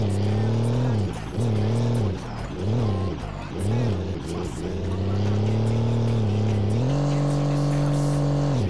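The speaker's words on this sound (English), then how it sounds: "Spinning that beautiful monster truck" The Brodozer monster truck's engine roars loudly in repeated revving surges during a freestyle run, pitch rising and falling in pulses before settling into a sustained high drone.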